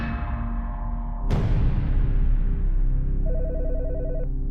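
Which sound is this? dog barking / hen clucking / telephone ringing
telephone ringing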